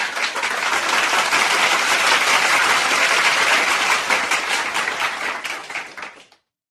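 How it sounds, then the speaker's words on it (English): Sustained audience applause, a loud, even roar of many hands clapping that holds steady for several seconds before cutting off abruptly. "So we would like to give y'all a round of applause."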